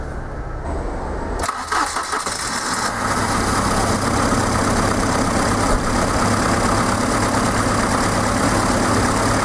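A Volvo 240 engine with a hiccup-and-stall fault cranks and catches, briefly stumbling in the first seconds, then settles into a steady, loud idle that continues throughout.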